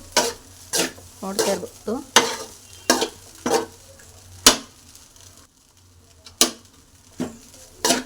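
A spatula scrapes and stirs egg rice with coriander in a pan, giving a string of sharp, evenly spaced scraping strokes over a faint sizzle, loud and close, while someone talks briefly between strokes.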